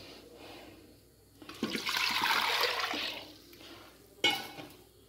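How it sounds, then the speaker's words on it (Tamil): Water poured from a tap into a burnt cooking pot in a home kitchen, a steady rushing splash of about two seconds followed by a short clatter of the pot, close by. "கொஞ்சம் தண்ணி விட்டு வச்சுக்கிடுங்க"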